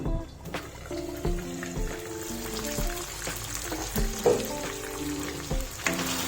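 Chicken pieces fry on a low flame in a pan, a close steady sizzle with soft crackles and occasional scraping as the pieces are stirred and turned, and no one speaks.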